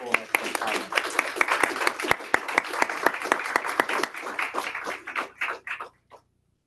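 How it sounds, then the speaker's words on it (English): Audience applause for panelists at a discussion on young people's trust in the federal government, a room full of clapping with some sharp individual claps standing out, then tapering off to silence. "please join me in a round of applause for our panelists and their insightful and excellent comments"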